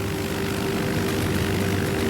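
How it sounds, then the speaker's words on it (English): A small propeller plane's engine drones steadily as it speeds along the runway before lifting off, a constant, even buzzing roar with no breaks. "The little plane goes along faster and faster, then lifts off into the air."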